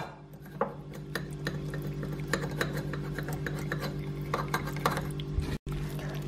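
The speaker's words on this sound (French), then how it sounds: "Je la filtre pour ne récupérer que le jus." Hot tomato sauce is strained in a kitchen to keep only the juice, with repeated light metallic clinks and scrapes of a utensil against a sieve or pan over a low, steady background.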